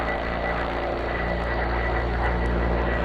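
Steady droning engine and propeller roar of an OV-10 Bronco twin-turboprop aircraft in the DCS flight simulator, a constant loud cockpit hum with layered tonal whine and no speech.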